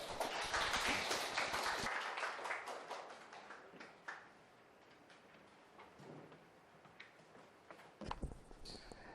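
Audience clapping at a seminar for a labor attorney exam briefing, a dense burst of applause for about two seconds that thins into scattered claps and room noise, with a brief second flurry near the end.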